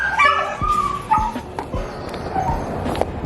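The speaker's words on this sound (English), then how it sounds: "Can you hear the dogs barking?" Several dogs bark and yip close by in short, uneven bursts with a few whimpers mixed in, heard at a family home with no talk over them.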